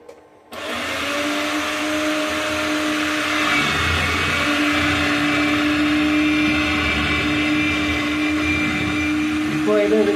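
A Preethi Cocosta Pro electric coconut scraper's motor starts after a brief pause and runs loud and steady with a constant whine, shifting slightly near the end.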